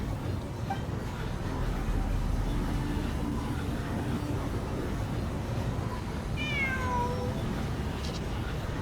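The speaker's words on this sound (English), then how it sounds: "Cat." A cat meows in a short rising-and-falling call near the end, standing out over a steady layer of game ambience in a Genshin Impact ruins exploration scene.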